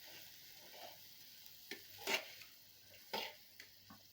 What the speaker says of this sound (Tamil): தேங்காய் பூ போட்டுடலாங்க. போட்டுட்டு நல்லா கலக்கி விட்டுறலாங்க.